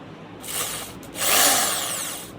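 Cordless drill from a budget combo kit whirring in two bursts, the second higher-pitched and louder as the motor speeds up, spinning freely and close with no talk over it.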